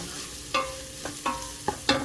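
Onions with kosher salt and black pepper stirred in a pan, a soft background sizzle with four or five sharp spoon scrapes and taps at uneven intervals.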